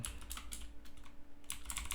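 Fast bursts of keystrokes on a computer keyboard, quiet and close, the clicks arriving in quick irregular clusters with brief pauses between them.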